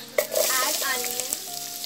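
Onions for sambar fry in oil with a bright, continuous sizzle. The sizzle is close and loud, with a few brief pan knocks near the start, and no talking.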